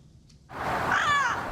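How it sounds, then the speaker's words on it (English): After a brief moment of near silence, a wild parrot lets out one loud, harsh, rasping squawk close by. "Drowning out the traffic is the sound of thousands of these wild birds"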